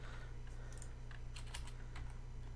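Quick keystrokes on a computer keyboard, a quiet, irregular patter of clicks over a low steady hum, with no speech.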